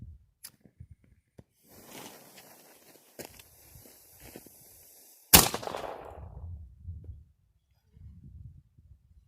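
A miniature artillery gun fires one sharp, loud shot partway through, with a brief decaying ring after it. Quieter handling noises and faint footsteps come before and after the shot, and there is no talk.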